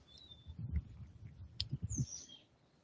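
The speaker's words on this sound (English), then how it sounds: "I hear birds chirping." Birds chirp in a backyard, with a few thin high whistles and a sweeping call over low, soft clicking and handling noises, faint and close.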